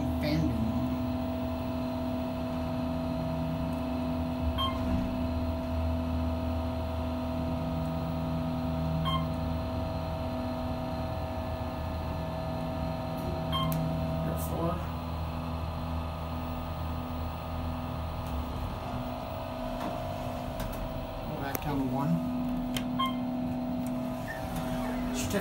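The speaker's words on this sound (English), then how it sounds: "I think they have nice sounding motors, though. Despite the extremely annoying fan being on." Otis hydraulic elevator motors in a Duke University library run as a steady droning hum with tonal whine, under a constant loud fan, with faint beeps and clunks along the way.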